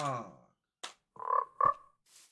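A frog in the Minecraft video game croaks in two short, close bursts after a brief spoken greeting, with a faint click and soft noise between.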